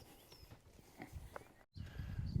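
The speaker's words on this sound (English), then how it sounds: "So just taking the cows and calves back to the field after morning milking." Hooves of Red Poll dairy cows and calves clop and shuffle on the way back to the field after morning milking, faint and a little distant, with quiet outdoor background.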